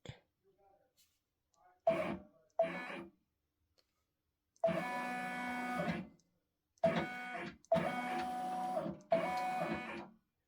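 A Brother embroidery machine sews satin stitch on an OESD Gingerbread Village freestanding bridge design, running in several loud, steady bursts of rapid mechanical stitching separated by short pauses, with faint handling sounds between.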